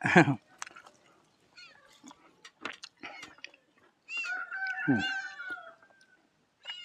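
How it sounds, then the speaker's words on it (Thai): A cat meows in a short series of close, harmonic calls, with one long drawn-out meow near the end, separated by small clicks and handling noises. "แมวหน่อยจากมัตตาไซครับพี่น้อง"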